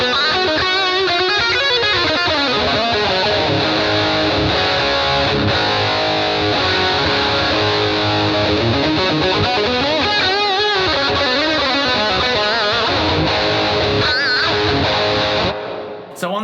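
Distorted electric guitar chords run through a Boss GT1000 with a ducking reverb, ringing loud and sustained for about sixteen seconds before the sound cuts off abruptly.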